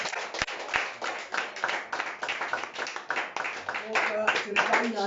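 A church congregation claps together during a praise service, a steady run of hand claps mixed with cheering and voices that carry through the whole stretch, loud and close.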